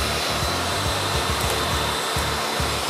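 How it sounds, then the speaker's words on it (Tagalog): A vacuum cleaner runs loud and steady, sucking up small scraps of paper, with a constant roaring drone and a rhythmic low pulsing throughout. "So, nakita nyo po yung kanyang vacuum power."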